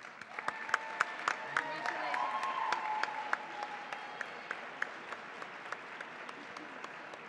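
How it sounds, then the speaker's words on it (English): Audience applause at a Latino Heritage 2012 honoree ceremony in San Francisco, a steady wash of clapping with sharper individual claps standing out, a voice speaking partway through before the clapping thins toward the end. "Please give a round of applause to Jenny."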